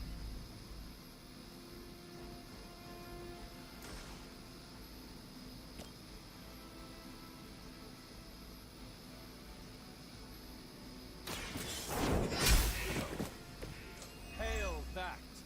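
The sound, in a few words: Hydra chopper flying in the video game Midnight Suns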